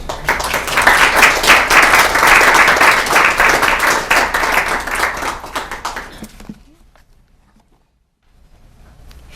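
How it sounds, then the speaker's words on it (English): Warm audience applause welcoming a lecturer to a history talk, dense clapping from a large hall crowd that swells, holds for about six seconds, then fades to quiet. "let's welcome her with a warm round of applause"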